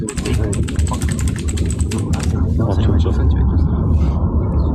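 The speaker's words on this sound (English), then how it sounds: "Bro's really typing this shit up." Rapid computer keyboard typing clatters close by over a steady low rumble, with someone talking underneath.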